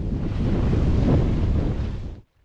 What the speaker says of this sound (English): there were some sneaky waves about, and they began to wash the deck a little bit